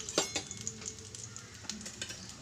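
Hotdog and scrambled eggs stirred in a frying pan, a soft sizzle under repeated scraping clicks of a utensil against the pan, close and quiet.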